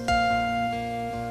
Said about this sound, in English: It's the elevator coming up and down in the Woolworth store.